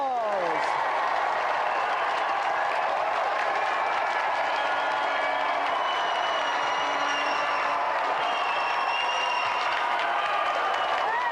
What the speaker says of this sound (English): give a round of applause for our 3 volunteers